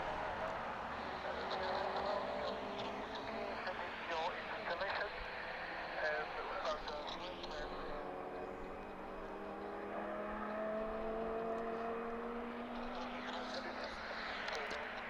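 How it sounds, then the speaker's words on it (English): Superbikes race at Donington Park in the distance, their engines whining and rising and falling in pitch as they pass, partly under a person talking nearby. "If you can hear the very loud car in the background, that's from the Donington Park."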